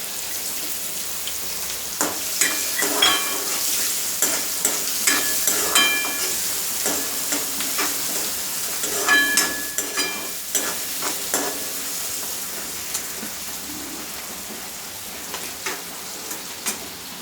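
Finely chopped onions sizzling and crackling in hot oil for kanda poha, a steady frying hiss with scattered pops, moderately quiet and uninterrupted by voices.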